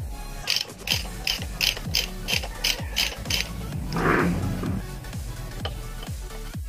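A ratchet wrench clicks in a steady, evenly spaced rhythm close by while removing 10 mm and 12 mm bolts during a dual horn install on a Suzuki Smash 115 motorcycle, with a brief scrape midway before the clicking resumes.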